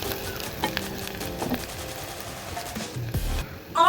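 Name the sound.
onions frying in hot oil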